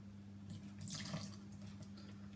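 Milk poured into a bowl of chocolate vegan cake batter, a steady liquid splashing and trickling that swells briefly in the middle, close and fairly quiet over a low steady hum, with no talking.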